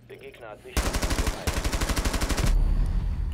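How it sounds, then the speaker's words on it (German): Rapid automatic gunfire in the video game Rainbow Six Siege comes in loud, close bursts of evenly spaced shots, with brief talk at the start. "die schießen durch die Wand oder was?"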